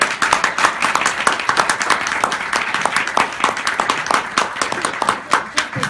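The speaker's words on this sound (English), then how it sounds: "so one quick round of applause," Audience applause for Q&A guests at a film screening, sharp individual claps from a modest crowd rising quickly and continuing in a lively, uneven patter for several seconds.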